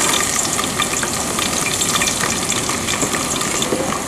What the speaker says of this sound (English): Now heated, so I will add my onion to the oil.